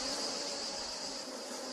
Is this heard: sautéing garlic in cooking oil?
no